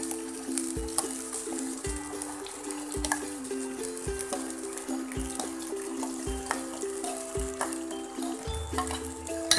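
Spinach puree poured into a pan of chicken sizzling in spices: steady frying hiss with rhythmic scraping and stirring clatter at close range, and music playing underneath.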